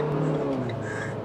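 A Renault Clio RS engine revs hard during spirited driving, a loud steady drone that climbs and then eases slightly over a brief stretch, with no voices.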